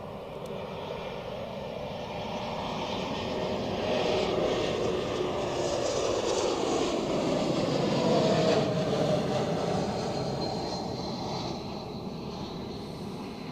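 A jet airliner arriving from Tirana touches down at Zurich Airport, its broad engine roar swelling to a peak midway and then easing off as it rolls out, loud and steady with no talk.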